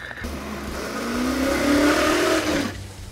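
A custom three-wheeler SEMA build's engine revs up under quick throttle twists, rising and then cutting off in one close, loud burst lasting a few seconds, with no talk.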